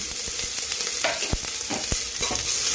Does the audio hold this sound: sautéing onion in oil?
yes